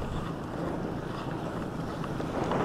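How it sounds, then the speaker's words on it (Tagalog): Strong wind roars and buffets the microphone in a continuous, loud rush, with faint water or engine noise beneath. "Malakas na yung hangin."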